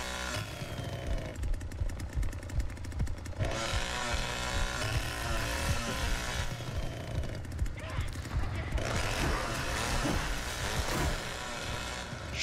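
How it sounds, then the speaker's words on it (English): A chainsaw roars in bursts inside The Texas Chain Saw Massacre video game, the harsh revving surging and dropping over about twelve seconds amid other in-game noise, with a person talking over it. "ripping up some folks with my chainsaw down here"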